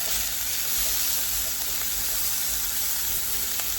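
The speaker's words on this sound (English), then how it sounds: "We're just browning these veggies here." Vegetables sizzle and brown in a hot pan with butter or olive oil, a steady close frying hiss with small crackles running throughout, no voices.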